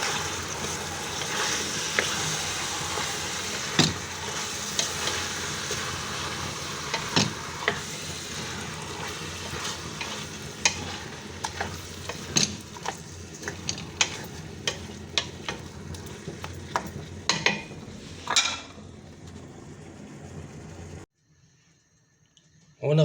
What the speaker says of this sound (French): On va mélanger de tout.